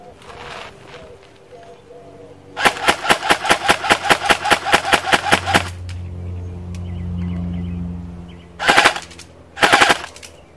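An airsoft gun firing a rapid burst of about fifteen sharp, evenly spaced shots, then after a pause two shorter bursts, loud and close, with some talk in between.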